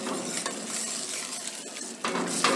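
Spices such as coriander and cumin powder being stirred into a simmering kadhai gravy in a pan, a steady close scraping and sizzling with occasional clinks of the spoon, no talking.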